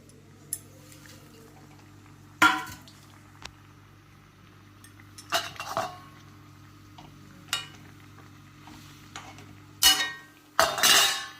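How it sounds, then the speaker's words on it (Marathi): Okra stirred into a boiling spiced curd gravy in a pan, with a metal spoon giving sharp clinks and scrapes against the pan in separate bursts, several seconds apart, over a quiet steady background hum. "आता ही भेंडी घालायची."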